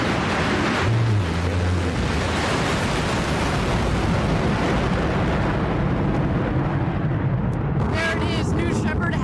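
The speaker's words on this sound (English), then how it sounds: "A beautiful burn on that BE-3 engine." A rocket's BE-3 engine fires at launch with a loud, continuous roar and rumble that fills the scene, while a voice talks over it.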